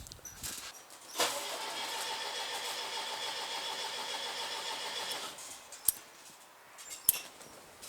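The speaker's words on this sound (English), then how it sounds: "it's pretty good. Let's try to fire it up." A Hyundai 730-3 turbo diesel wheel loader cranks and catches, its engine churning loudly and steadily for several seconds before cutting back, followed by two sharp metallic clicks.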